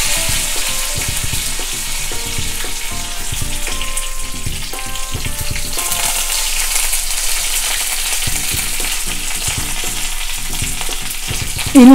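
Curry leaves and dried red chillies crackle and spit in hot oil with popped mustard seeds, a steady close sizzle with bursts of sharper spattering, tempering for Kerala pineapple pachadi.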